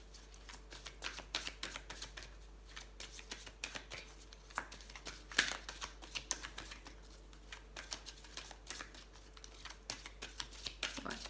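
Goddess guidance oracle cards being shuffled by hand, a soft continuous papery riffling with light taps and crinkles, fairly quiet and close, with no talking.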